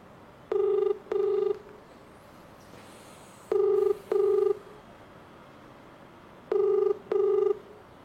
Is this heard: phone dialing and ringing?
yes